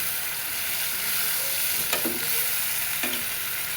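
Rohu fish head masala frying down in a pan, a steady close sizzle with a couple of brief stirring scrapes, no voices.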